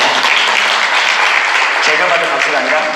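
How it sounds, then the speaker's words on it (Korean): Audience at a talk about North Korea's market generation clapping loudly and continuously for a few seconds, with a speaker's voice running beneath the applause. "제가 받은 박수가 아니라 이분들에게 박수."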